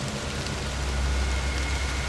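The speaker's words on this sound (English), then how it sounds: "Okay, it's raining. Oh, God, I'm in a forest, aren't I?" Steady rain falls through a forest in the Oculus Rift virtual reality game Lost in the Rift, a constant even hiss of drops with a low rumbling bed beneath. It plays alone with no voices.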